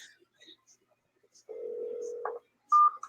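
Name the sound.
telephone dialing tones while calling someone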